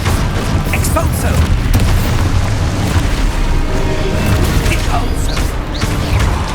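Spell-driven explosion from the Expulso charm in Hogwarts Legacy, a loud booming burst amid continuous in-game combat noise with voices shouting over it.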